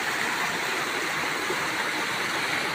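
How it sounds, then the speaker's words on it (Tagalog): A hillside river rushes steadily after a landslide, a dense, constant roar of flowing water filling the whole stretch with no pauses and no voices over it. "Ito po yung taas ng ating ilog mga kaibigan."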